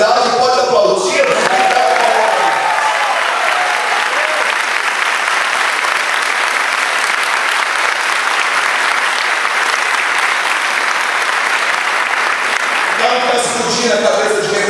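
Church congregation applauding after a sermon, loud, dense, sustained clapping with some cheering that swells in right after a preacher's voice and runs for over ten seconds before the voice returns.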